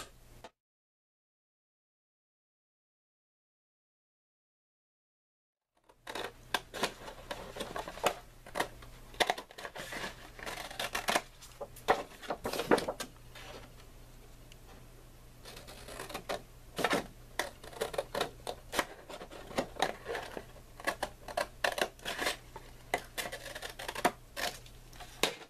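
Paper being cut with a ruler for a handmade mini album, heard as a run of close, crisp clicks and rasping strokes after a silent opening, steady over a low background hum.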